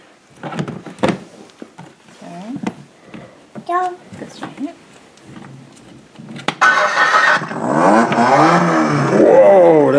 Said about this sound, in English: Wanna start the engine? Start the engine.